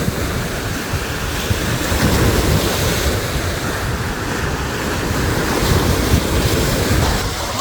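Steady rush of wind over continuous lapping waves on the shore of Lake Peipus, with gusty buffeting against the microphone throughout; no voices.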